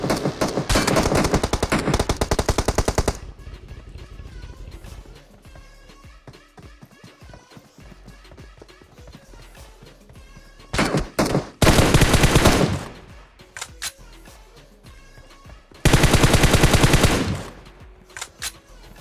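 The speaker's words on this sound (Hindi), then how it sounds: "मेरे पीछे से कोई बॉट फायर करता है" Bursts of rapid automatic gunfire in the mobile shooter PUBG Mobile, loud dense volleys at the start and again in two later bursts, with quieter game sounds and scattered shots between them.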